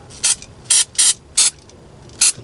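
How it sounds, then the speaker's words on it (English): Cleaner sprayed onto fuel pump connections of a 2017 Dodge Durango GT AWD 3.6L, five sharp close hissing bursts from a trigger spray bottle, irregularly spaced with quiet gaps. "Spray a little bit."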